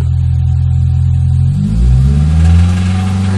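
A Toyota Celica GT engine idles steadily, then revs up to about 2,000–2,500 rpm and holds there, where an odd mechanical noise rides on the engine. The sound is loud and close, with no voices.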